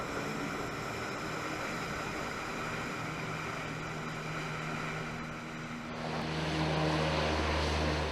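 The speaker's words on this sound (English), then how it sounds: "the USS Bonhomme Richard deployed several LCACs, or landing craft air cushions" An LCAC landing craft air cushion hovercraft deployed from the USS Bonhomme Richard during an exercise off Townshend Island, Australia, producing a steady, loud roar of engines and propellers whose low rumble swells toward the end.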